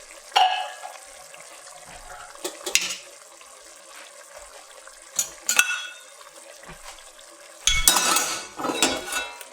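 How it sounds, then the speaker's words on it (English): Tomato sauce simmering in a cooking pot, with soft wet bubbling and a few clinks and scrapes of a spoon stirring, ending in a louder burst of stirring and splashing near the close. "Our tomato sauce has been bubbling away now for about 15 minutes or so. Just give it a stir."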